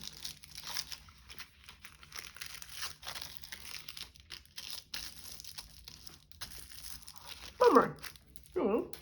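Foil wrapper from a Lindt Intense Mint dark chocolate bar crumpled in two short, loud crinkling bursts near the end, after a stretch of quiet talking.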